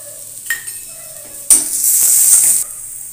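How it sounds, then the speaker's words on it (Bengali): Ginger-garlic paste and a little Kashmiri red chili hit hot oil in a pan over a lowered gas flame for restaurant-style dal fry. A few soft clinks come first, then a sudden loud, hissing sizzle holds steady for about a second. "এবার আমি এর মধ্যে দিয়ে দিচ্ছি আদা আর রসুনের পেস্টটা। গ্যাসের ফ্লেমটা কমিয়ে দিচ্ছি, দিয়ে দিচ্ছি সামান্য একটু কাশ্মীরি লাল মিরিচ"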